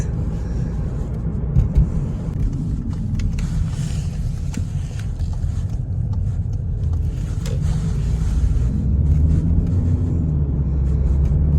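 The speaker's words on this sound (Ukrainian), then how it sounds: "автомобіль їздить гарно." Volkswagen Passat B8 2.0 TDI with DSG gearbox driving on a road in strong wind, heard from inside as a steady low engine and tyre rumble with broadband wind noise, fairly loud and continuous without talk.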